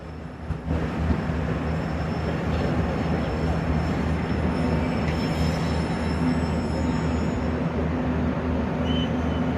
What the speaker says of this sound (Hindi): ZC26401 के साथ खड़ी हुई 10 डाउन इलामा इकबाल एक्सप्रेस।